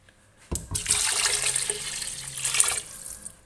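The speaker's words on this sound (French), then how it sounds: "Et là, je rajoute de l'eau." Water pours steadily into a cooking pot while chorba is being made, a close, continuous splashing stream lasting a few seconds before it stops.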